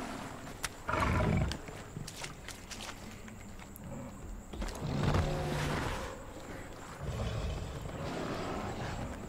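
A bison in Far Cry Primal gives several deep, rough bellows, loud and close, spread over about nine seconds and separated by quieter stretches with footstep-like rustles.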